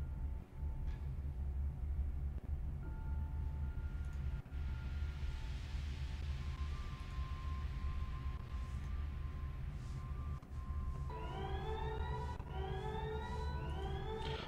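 Central alarm aboard a spaceship in the game Event[0]: faint steady alarm tones over a low engine rumble, then a rising, repeating siren wail that swells in the final seconds.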